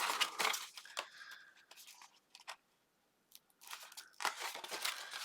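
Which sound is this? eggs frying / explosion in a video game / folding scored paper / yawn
folding scored paper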